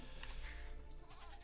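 A sheep bleats in the Age of Empires video game, short and clear above steady game music and background sound effects.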